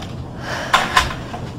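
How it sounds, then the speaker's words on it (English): An office door swings shut with two quick knocks, a click followed a moment later by a firmer thud, against a quiet room. "Would you mind closing the door, please?"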